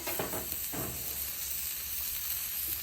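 A smash burger sizzles on a flat top griddle, a steady loud frying hiss with a few brief scraping bursts near the start, no voices.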